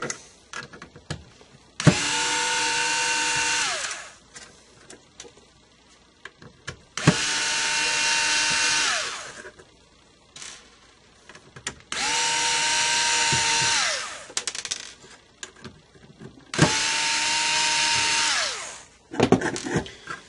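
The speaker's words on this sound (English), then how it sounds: "4 small Phillips screws here to take out." Four bursts of a power screwdriver whirring as small Phillips screws are removed from a Mazda RX-7 headrest speaker, each about two seconds, separated by pauses with small clicks and handling noise.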